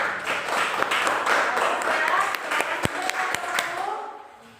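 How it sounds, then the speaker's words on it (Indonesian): A classroom group claps for the first team after its presentation, a dense burst of many hands lasting several seconds, with a few sharper individual claps near the end before it fades out, while voices talk underneath. "Kita beri aplaus untuk kelompok 1"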